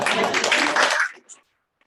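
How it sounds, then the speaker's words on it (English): A brief, dense burst of clapping from a small group at an office meeting, loud and close, cutting off abruptly after about a second. "Round of applause, voting for Lizzie."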